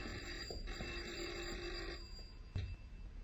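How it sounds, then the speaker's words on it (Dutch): A telephone rings in a Dutch radio play, a steady, quiet electronic ring held over a faint background for a few seconds. "Oh, telefoon."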